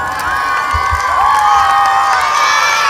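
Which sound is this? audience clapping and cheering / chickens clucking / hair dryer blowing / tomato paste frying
audience clapping and cheering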